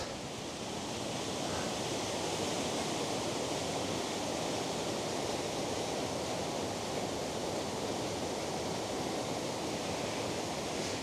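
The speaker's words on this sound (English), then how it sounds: "that makes the waterfall even more impressive than usual" A waterfall on a river swollen by rain in the Wicklow Mountains roars in a steady, dense, loud rush of water that holds unchanged throughout, with no voices.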